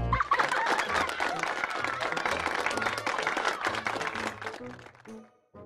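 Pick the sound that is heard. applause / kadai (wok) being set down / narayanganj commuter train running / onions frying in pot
applause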